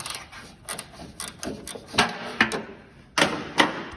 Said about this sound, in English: put a wrench down in there, loosen that, and it'll slide up out of there